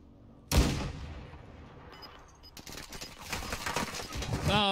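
A sharp gunshot cracks in a Call of Duty-style shooter match on Ashika Island, followed by a rumbling echo and more scattered gunfire and shuffling game noise building over several seconds.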